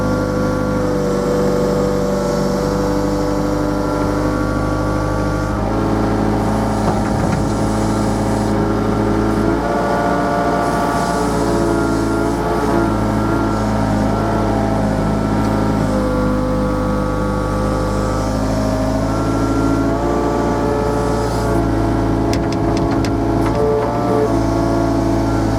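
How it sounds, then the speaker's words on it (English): A Hitachi ZX50 excavator engine running at half throttle, a loud, constant droning diesel hum with a strong low throb, steady throughout with small mechanical knocks. "I like to run the excavator for about half the throttle."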